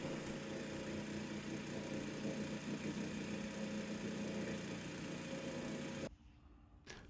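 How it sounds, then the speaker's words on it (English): Lapidary wheels spin steadily to clean the edge of a castellated bezel turquoise and silver pendant, a loud continuous motorized whir with grinding texture that cuts off abruptly near the end. "I'm going to use my lapidary wheels, and we're going to clean off the edge"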